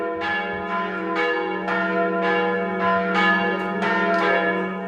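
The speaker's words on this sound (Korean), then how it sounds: "평화로운 일요일 오전, 교회의 종소리가 크게 울린다." Bells of a rebuilt church in Ålesund, Norway peal on a Sunday morning, a steady run of about nine clear strikes in an even rhythm over a continuous ringing hum, loud and resonant.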